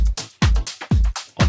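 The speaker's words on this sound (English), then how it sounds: "Then I added some shakers here" Shakers sit on the downbeat within a chill deep house beat, a bright rhythmic shuffle over a deep kick that pulses about twice a second, loud and upfront with no talking.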